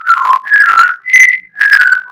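A pet bird whistles a tune in four clear, pitched phrases, close and loud, with short pauses between them and no voices.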